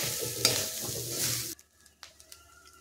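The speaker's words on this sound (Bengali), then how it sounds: "তো এটা দিয়ে আবার আমি নাড়াচাড়া করতে থাকবো আরও 3 থেকে 4 মিনিট" Grated coconut with cardamom powder is stirred in a pan for homemade coconut naru, giving a loud close scraping sizzle that stops abruptly, followed by a few faint clinks and taps.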